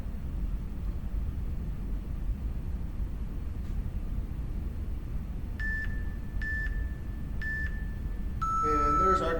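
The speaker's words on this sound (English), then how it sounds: "And there's our timer." A workout timer marks the end of a plank hold with a few short, evenly spaced electronic beeps, followed by a longer closing tone, over a steady background hiss.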